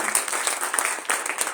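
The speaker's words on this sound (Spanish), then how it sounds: "recibamos a Beatriz Espejo con un fuerte aplauso" An audience at a book presentation gives a short round of applause, a dense patter of clapping hands welcoming a speaker.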